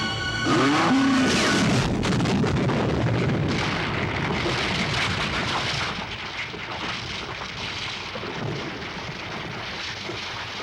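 A large booming explosion from a bazooka blast in the 1976 film Grizzly, loud and rumbling at first, then rolling into a sustained roar of debris and fire with no talking.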